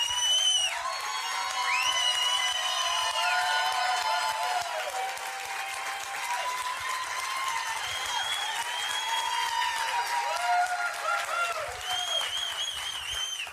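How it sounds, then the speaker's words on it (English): Sustained applause from a large audience at a business event fills the room evenly and loudly, with scattered cheers and whoops mixed into the clapping. "All the claps and applause."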